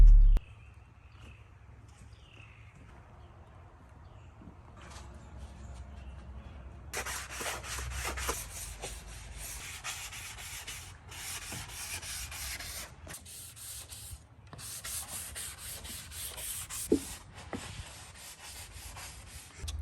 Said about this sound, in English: right now just doing some light sanding